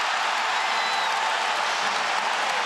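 Basketball arena crowd roaring steadily after a fast-break layup and-one in a Big 12 men's game between UCF and Kansas, a dense sustained wash of cheering and applause with no break across the short stretch.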